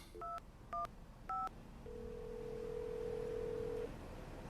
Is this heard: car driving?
no